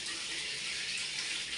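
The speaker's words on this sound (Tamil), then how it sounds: "இப்போ வந்து நாங்கள் தண்ணியை திறக்கலாம்" Water runs steadily from a tap during a water heater installation, a constant close hiss with slightly slow flow, with no voices over it.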